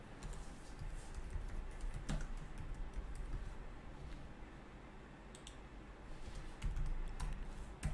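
HTML and CSS code being typed on a computer keyboard, steady clattering keystrokes with occasional sharper clicks running throughout, close and fairly quiet, no voices.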